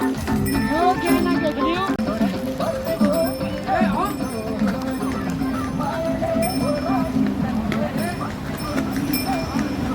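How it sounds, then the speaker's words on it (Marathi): Horses walking along the Yamunotri pilgrimage mountain trail, their hooves clip-clopping steadily throughout amid constant crowd chatter and voices close by. "हे वरनं पण घोडे चाललेले आहेत"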